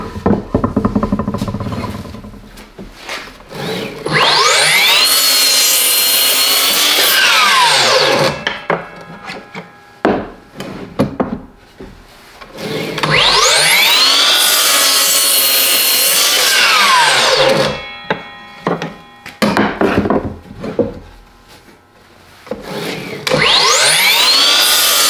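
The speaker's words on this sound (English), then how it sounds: "we'll make a couple cuts" A cordless Makita 40-volt 12-inch dual bevel compound miter saw slices through wood in three loud cuts, each motor whine rising and holding for several seconds before spinning down into quiet pauses.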